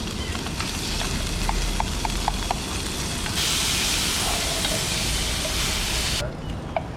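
Bacon frying in oil over a camp stove on a canoe camping trip gives off a steady, close, crackling sizzle that fills the whole stretch, with a few sharp spits and clicks; no one speaks.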